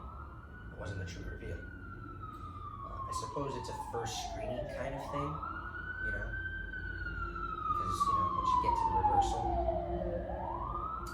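Sirens wail in rising and falling sweeps in the background, fairly faint and distant, while a person talks steadily over them.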